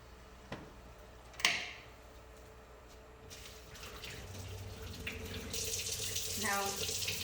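Cold water from a kitchen tap runs over cooked fish for bacalaitos, starting after a few light clicks and then rushing steadily and growing louder, close by.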